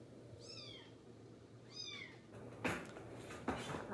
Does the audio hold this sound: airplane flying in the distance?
no